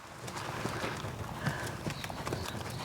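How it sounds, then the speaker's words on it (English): A horse trots in a schooling session, its hooves clip-clopping in a quick, even rhythm at moderate distance, with faint surrounding noise. "Let's see if we can make his trot a little bigger even."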